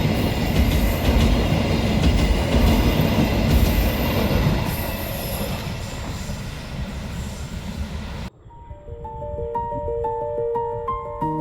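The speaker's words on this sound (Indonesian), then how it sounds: "Mungkin ini kereta ke arah Jawa Tengah mungkin ya." Train cars roll across the Cisomang railway bridge, a loud continuous rumble with wheel clatter and squeal that fades out, then cuts abruptly to a quieter scene with faint distant clanking and tones.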